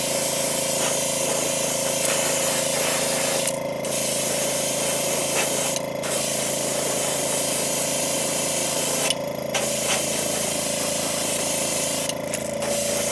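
A spray gun shoots Createx pearlized white paint over a guitar body, a continuous close hiss of air and atomized paint broken by three or four short pauses between passes.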